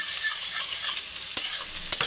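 Onions and green chilies fry in a pan with a close, steady crackling sizzle, broken by a few light spoon scrapes toward the end, and no one speaks.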